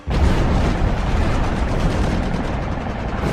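A bomb bursts as a near miss beside the aircraft carrier Enterprise in the Battle of the Eastern Solomons, a sudden heavy blast that swells into a sustained, loud rumbling roar lasting several seconds.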